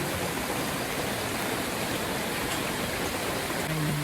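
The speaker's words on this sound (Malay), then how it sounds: "Hujan dia." Steady, even hiss of rain filling the whole stretch without pause, a dense wash of noise like rainfall on surfaces nearby.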